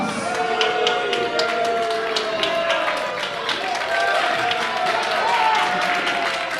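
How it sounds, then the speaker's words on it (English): Wrestling crowd applauds Lady Frost at a women's wrestling event, a steady, dense wash of clapping lasting throughout, with some crowd noise mixed in. "Lady Frost receiving a round of nuanced applause."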